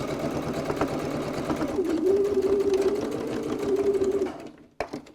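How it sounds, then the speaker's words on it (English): A sewing machine back stitches the corners of a wallet about three-quarters of an inch in, a close continuous hum that runs for about four seconds before stopping, followed by a small click. "So back stitch those corners so they're nice and secure"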